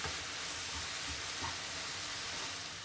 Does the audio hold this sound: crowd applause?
no